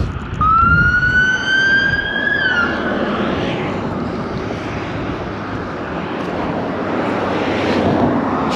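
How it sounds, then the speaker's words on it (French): A police car siren wails at night on a lit city street with local shops, rising and holding for a couple of seconds up front before fading into steady traffic rumble. "ça fait 2 voitures de police que je vois passer"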